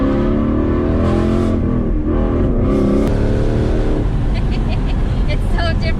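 A Ford Mustang engine revs loudly while driving. A deep, steady engine drone rises and falls in pitch with throttle changes, heard from inside the car, with faint voices underneath.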